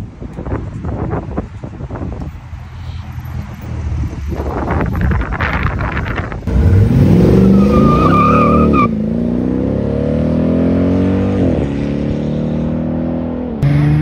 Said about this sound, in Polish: wjechać tyłem na lawetę na sam szczyt